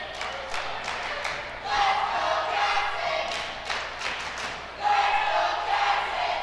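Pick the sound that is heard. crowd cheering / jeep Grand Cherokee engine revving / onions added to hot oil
crowd cheering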